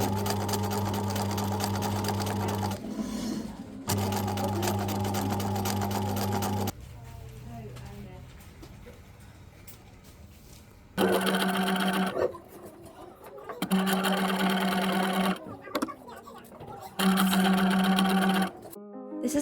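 Sewing machine stitching fabric for a shirt toile, loud close motor runs in several bursts of a few seconds each, separated by quieter gaps with faint handling noise.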